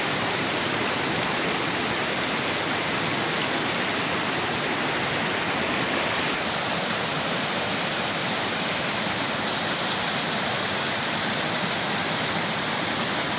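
A fast mountain river rushes loudly and steadily beside a lake in a northern highland valley, a dense unbroken roar with no voices.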